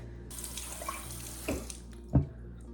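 A kitchen tap runs warm water into a measuring cup for pizza dough, a steady close splashing flow with a couple of brief louder splashes near the end.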